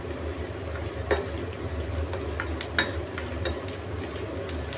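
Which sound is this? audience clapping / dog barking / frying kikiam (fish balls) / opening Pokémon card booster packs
frying kikiam (fish balls)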